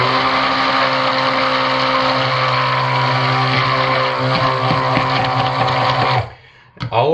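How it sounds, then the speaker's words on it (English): A stick blender whirs steadily and loudly, blending titanium dioxide into cold process soap batter for an orange cognac soap, running continuously for about six seconds before cutting off abruptly, followed by a brief clatter. "All of these have to be stick blended because you know titanium dioxide has to be stick blended."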